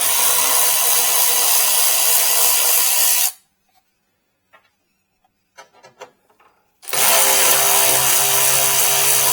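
A power tool buzzes loudly and steadily while removing 10 mm headlight bolts on a 2015-2020 Ford F-250, stops for a few seconds of near silence with small clicks, then runs again.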